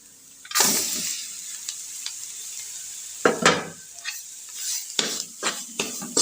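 Raw chana dal and karela peels fry together in a pan, a soft sizzle broken by a few sharp scraping stirs of the spoon against the metal.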